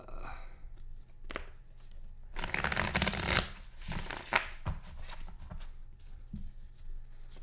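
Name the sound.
shuffling a deck of cards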